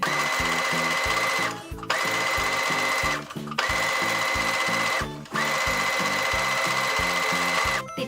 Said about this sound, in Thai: เดี๋ยวจะ เย็บเนาค่ะ เย็บเนาในส่วนของตรงนี้ก่อน